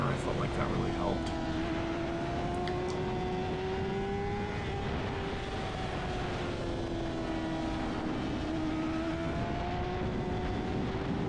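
A SuperStock 600 racing motorcycle at NOLA Motorsports Park, held wide open at full throttle: a loud, steady high-revving engine whine with pitch rising and sagging through gear changes, continuous from start to finish.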